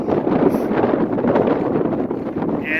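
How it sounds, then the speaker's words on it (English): Steady, loud wind on a mountain near Upper Chicago Lake, Mt. Evans, roars and buffets the microphone without a break, a broad rushing noise with gusty swells. "it's pretty windy up here"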